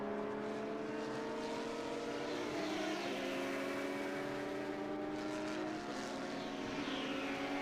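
Screaming high-revving V10 Formula One race car engines at Road America approach and pass from a distance, overlapping whines sliding in pitch as several cars go by.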